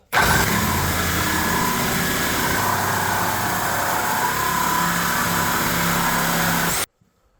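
A reciprocating saw fitted with a Bosch blade cuts through metal, a loud, steady buzzing drone that runs unbroken for nearly seven seconds before stopping abruptly.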